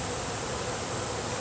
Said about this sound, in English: there's just bees everywhere right now, flying around.